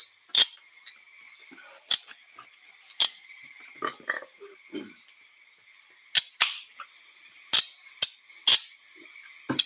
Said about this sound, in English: I hear another June bug.